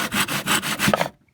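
Hand saw cutting through wood in a small shed workshop project making a ring box, a steady back-and-forth rasping of strokes close up that stops as the cut is finished.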